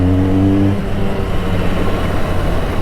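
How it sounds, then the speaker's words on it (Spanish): A Benelli 302C motorcycle engine revs up close, a strong low rumble that climbs and then settles into a steady, rough idle-like drone with no talking over it. "Y el sonido solo escuchen."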